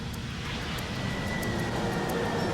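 A United Airlines DC-10 on Flight 232, damaged and losing altitude near Sioux City, roars steadily with a broad, continuous engine drone and a faint high whine, loud and unbroken, with no talking.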